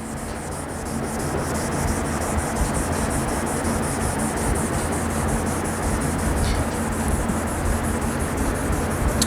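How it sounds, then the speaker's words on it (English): Steady, continuous abrasive rubbing of wet sanding on car paint while repairing keyed scratches, a close, even scrubbing texture that runs without pause and without voices. "Wet sanding is just one of those things"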